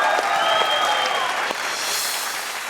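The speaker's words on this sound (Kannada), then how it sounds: "ಹೊಡಿರಿ ಚಪ್ಪಾಳೆ." An audience at a comedy stage show claps in a dense, continuous burst of applause, close and loud throughout.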